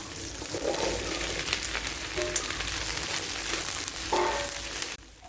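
Sliced okra fries in hot oil in a pan with onion and green chilies, giving a steady, dense sizzle close up with faint stirring scrapes, continuous throughout before stopping abruptly.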